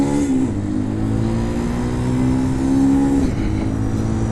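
A Bashan Motomax 250 supermoto motorcycle accelerates hard from a roll, its engine note climbing and dropping through clutchless upshifts, loud and close with steady rushing wind noise.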